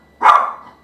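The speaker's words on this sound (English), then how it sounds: "So that's my dog. She's not gonna shut up for a while." A single loud, close bark from a dog, sharp at onset and tailing off quickly, with no other sound around it.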